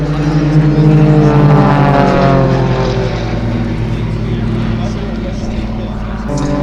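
Aerobatic propeller planes of the Global Stars team trail smoke over the Little Gransden Air and Car Show in 2025, their engines a loud, steady, droning roar that holds throughout with no break.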